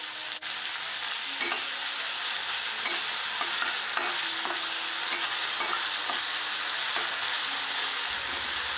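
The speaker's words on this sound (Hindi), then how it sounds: "मटर को करीब 1 to 2 मिनट्स तक कुक करने के बाद हम इसमें टमाटर ऐड कर लेंगे जो हमने पहले चॉप" Chopped tomatoes added to peas cooking in a pan for paneer bhurji, stirred with a spoon, giving a steady sizzle and frying hiss broken by soft scraping and clinks, close by and without speech.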